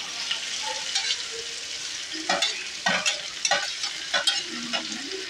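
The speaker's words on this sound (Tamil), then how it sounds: "இந்த வெங்காயம் கூட நம்ம நல்லா பொரியணும்" Chopped onions fry in a pan with a constant close sizzle, while a spoon stirs and scrapes in a rapid run of clattering strokes toward the end.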